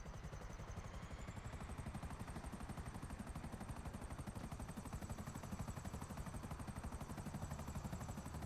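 Helicopter in a video game, a steady rapid rotor chop with a constant engine whine, heard alone and evenly throughout at moderate volume.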